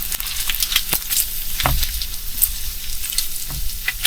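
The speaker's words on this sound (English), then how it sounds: "I'm going to turn the heat down a little bit so the bacon doesn't get too crispy too fast." Bacon sizzling in a frying pan on lowered heat, a loud, close, steady crackle and spit of fat with occasional sharper pops, heard alone without speech.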